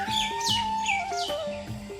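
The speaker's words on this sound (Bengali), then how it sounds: "বাড়িতে অনেক রকমের পাখি ডাকে" Several birds chirp and call around a house in the morning, bright repeated tweets in a steady, overlapping pattern, moderately close and fairly quiet, with no talking.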